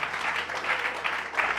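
A church congregation claps together in steady, sustained applause throughout, a dense and fairly close wash of hand claps with no voices over it.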